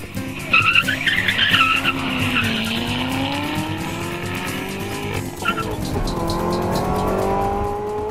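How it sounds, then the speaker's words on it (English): A Chevrolet Corvette ZR1 racing at over 130 mph: its engine roars steadily and close while the tires squeal loudly in long drawn-out skids. "he's gunning the ZR1 past 130 miles per hour and loving it"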